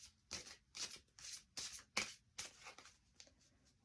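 Dark Goddess oracle cards being shuffled by hand, a run of quick, close riffling bursts in a steady rhythm, crisp and soft with short pauses between, no talking.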